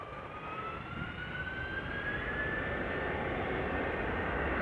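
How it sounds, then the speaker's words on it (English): Delta Air Lines Airbus A330, about 20 years old, departing Amsterdam Schiphol Airport, its jet engines a steady broad roar with a rising whine, growing slightly louder throughout and heard alone. "Delta Airlines flight 135, Airbus A330 going to Detroit."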